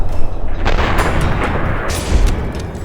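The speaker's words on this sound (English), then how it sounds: "My first shot grazed the massive creature" A gun fires at a giant gecko in Fallout New Vegas, loud booming shots with rumbling echoes and a few sharp cracks in quick succession, with no voices.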